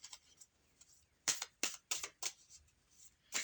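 Oracle cards being shuffled in a few quick, crisp riffling bursts, soft papery flutters separated by short quiet pauses, close and fairly faint with no talking.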